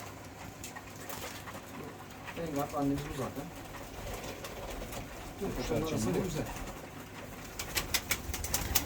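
Pigeons cooing in a coop, soft repeated coos rising in two bursts over steady background noise, with someone talking throughout.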